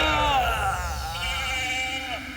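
Cartoon sheep bleat in a wavering, drawn-out cry during a chaotic car race scene in an animated Motu Patlu episode, loud and close with background music underneath.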